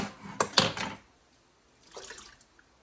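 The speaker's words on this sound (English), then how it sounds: "pour the juice and everything" Juice and canned contents splash and pour into a crock pot, a short burst of sloshing and metallic clinks followed by quiet and then a softer trickle.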